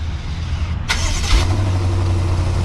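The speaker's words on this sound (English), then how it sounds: "This does have remote start, so just by triple tapping on that lock button," A 2023 BMW M550i engine cranks over via remote start with a short burst, then settles into a steady low idle rumble close by.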